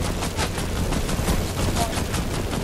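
Rapid bursts of gunfire in the Fortnite video game, a dense run of repeated shots crackling at a fairly even rhythm, loud and close.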